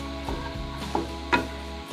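A spoon scrapes and stirs corn kernels dry-roasting in a pan with ground coriander and cumin, a few soft scrapes and knocks over a steady low sizzle, close and moderately quiet.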